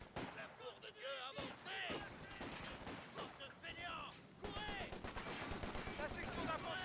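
An infantry squad firing in Company of Heroes 2: rifle and machine-gun bursts crack repeatedly in close succession, with a battle-chatter voice speaking over the shots.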